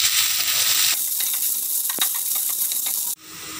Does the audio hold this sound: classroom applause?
no